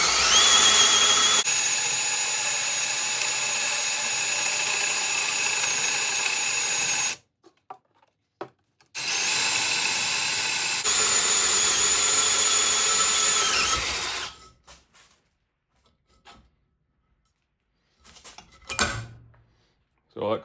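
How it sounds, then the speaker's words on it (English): A power drill grinds steadily into a welded metal shaft on a Case 155 articulated tractor in two long bursts, separated by a short pause, followed by a few faint clanks and knocks. "And drill the center out."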